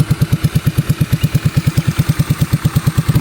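A motorcycle engine idles close by, throbbing in a steady, even pulse of loud low beats with no other sound over it.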